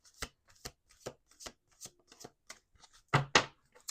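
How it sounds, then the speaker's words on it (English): A deck of playing cards is shuffled repeatedly, giving sharp riffling bursts at a steady pace and ending with two louder, fuller riffles, close and clear with no talking. "Let's do 2 more shuffles."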